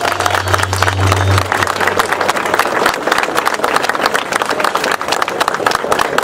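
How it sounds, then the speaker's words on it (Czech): Loud crowd applause at an outdoor anti-NATO demonstration in Prague, dense clapping throughout with a low engine hum beneath it early on. "potlesk pro pana Jána Černogurského"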